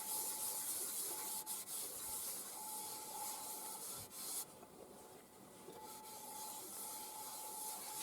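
Yorkshire Grit abrasive paste worked onto a spalted ash bowl spinning on a wood lathe, giving a steady, close, continuous rubbing and sanding hiss over the hum of the lathe.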